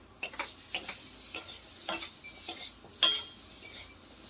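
Salted bottle gourd pieces frying in a pan, with a faint steady sizzle broken by a series of sharp, close utensil scrapes and clicks as it is stirred.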